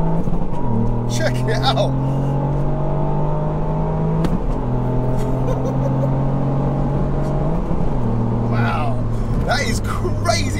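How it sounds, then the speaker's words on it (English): A Revo Stage 2 Ford Fiesta ST accelerating hard through the gears with flat foot shifting, a loud rising engine note cut by quick shift pops, heard from inside the car while people talk. "The flat foot shifting from standard, that's epic."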